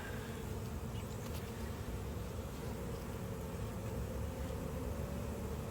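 Honeybees buzz in a dense, steady drone during a hive inspection, close and continuous throughout with no talk over it.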